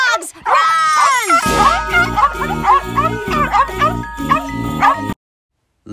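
Animated guard dogs bark and growl in a cartoon, loud and close, with repeated harsh yelps over a steady music bed, ending abruptly in silence.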